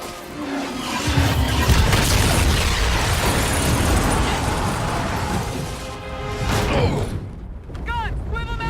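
Warship guns fire amid heavy explosions in the video game Call of Duty Infinite Warfare, producing a loud, dense barrage of booms and bursts with mechanical clatter, while shouted voices cut through near the end.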